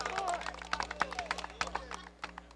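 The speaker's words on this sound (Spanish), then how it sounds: "Aplausos, por favor." A crowd at a horse race ceremony claps in applause, a dense patter of many hands mixed with background chatter, moderately distant and steady before easing off at the end.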